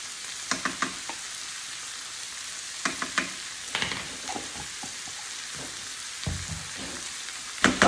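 Garlic, two tablespoons of it, sizzles in a pan for a spaghetti and meatball sauce, with soft frying hiss broken by a few sharp crackles and stirring clatters in bursts, fairly close and without talk.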